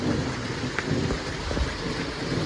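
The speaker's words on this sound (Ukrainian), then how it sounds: "Ще такий якийсь дощ дивний." Heavy rain during a thunderstorm, dense steady hiss and patter close by with low rumbling thunder underneath, continuous throughout with no voices.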